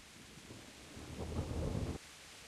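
Soft rain hiss in the video game Kingdom Come: Deliverance, with a low rumble of thunder swelling briefly in the middle, then cutting off abruptly.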